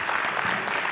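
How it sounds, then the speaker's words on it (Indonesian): A short burst of dense audience applause welcoming a guest on a religious talk show, loud and steady through the whole moment. "Kita beri tepuk tangan."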